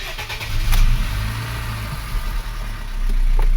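A 2009 Honda Fit being diagnosed for a P0138 oxygen sensor fault cranks and its engine catches, then settles into a steady close idle with a slight rise in revs near the end.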